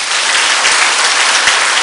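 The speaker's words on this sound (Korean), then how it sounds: "박수로 환영하겠습니다." Church congregation applauds to welcome visiting pastors and missionaries, a dense, steady burst of clapping throughout the short stretch with no talk over it.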